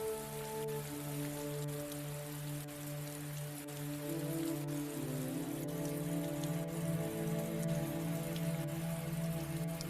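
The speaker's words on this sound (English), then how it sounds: "It's very natural sounding rain." Rain from the old Windows XP mystery video game The Diamond Mystery of Rosemond Valley patters evenly on a surface, with occasional faint clicks, heard alone at low-to-moderate level.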